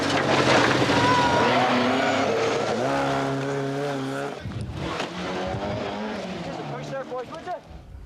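A Porsche rally car driven hard on a 1994 Circuit of Ireland Rally stage, engine roaring loud and close throughout, with a sharp drop and changing pitch as it passes, under a commentator's voice.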